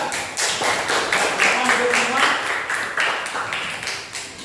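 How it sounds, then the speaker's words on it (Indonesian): A class of students claps together in a sustained burst of applause lasting a few seconds, fairly loud and close, then fading slightly. "Beri tepuk tangan kepada kelompok 3"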